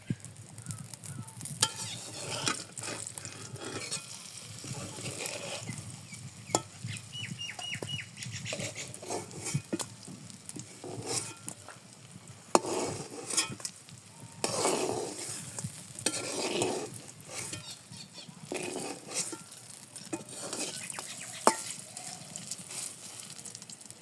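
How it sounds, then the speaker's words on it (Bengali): Eggplant frying in hot oil in a pan in a village kitchen gives a steady, moderately faint sizzle, with crackling bursts and occasional stirring scrapes throughout. "বেগুন ভাজা হয়ে গেছে, এখন আমি নামিয়ে নিই।"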